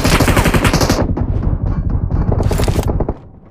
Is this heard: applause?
no